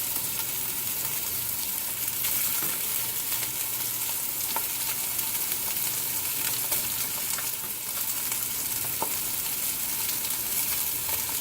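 Spicy sausage sizzles and fries steadily in a pan as it browns, a close, even hiss with occasional small pops and no voices.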